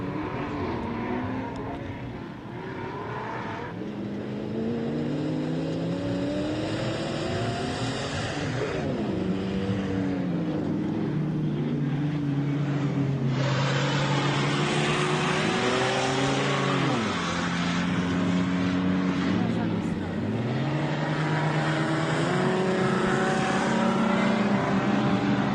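Off-road race cars at the 2017 MetalCloak Stampede heading out onto the course for another lap, engines revving and shifting in loud overlapping rises and falls, several vehicles passing one after another close by.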